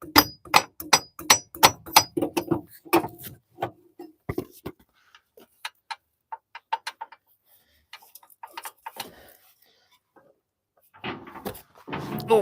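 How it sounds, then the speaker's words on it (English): Hammer blows on a Mini One during a clutch replacement: sharp metallic knocks, rapid clusters at first, then sparser and irregular strikes with quiet gaps between them. "let's get the hammer"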